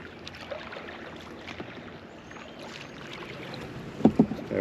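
Oru Bay folding kayak gliding on water at First Landing State Park, Virginia, a soft steady wash of water and light wind noise, with a few close paddle splashes near the end.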